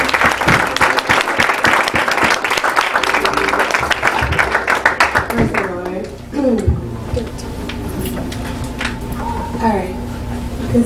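A church congregation claps by hand in a dense, loud burst for about five seconds, then the clapping fades as sustained musical tones and talk carry on underneath.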